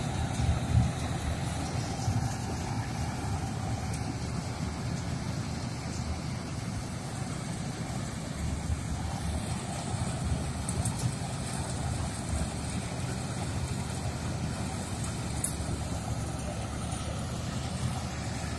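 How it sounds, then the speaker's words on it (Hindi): Gahir Nippy tractor-mounted mini combine harvester, 7.5-foot cutter, working in Haryana: a steady, loud mechanical engine drone with constant rumble and hum that holds at one level throughout, no pauses and no talk. "ये गहिर कंपनी की बहुत ही अच्छी, पहली बार हरियाणा में चलती हुई ट्रैक्टर कंबाइन, निप्पी कंबाइन नाम है इसका"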